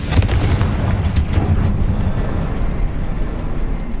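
Blasting-spell explosion from the wizarding game Hogwarts Legacy, a sharp crack at the start rolling into a sustained heavy low rumble that fills the rest of the moment.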